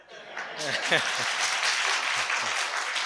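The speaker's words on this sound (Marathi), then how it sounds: "टाळ्या वाजवताय तुम्ही, पण तुमच्या टाळ्यात काही जोर नाही" Audience applause at a devotional Marathi discourse on Tukaram's abhangas: steady, fairly soft clapping from a crowd, sustained for about three seconds with a lone voice briefly heard near the start.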